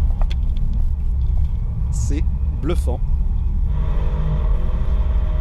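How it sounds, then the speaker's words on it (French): An autonomous Audi lapping a race circuit, its engine and road noise a steady loud rumble throughout while someone talks over it. "Le véhicule tient vraiment très bien la route."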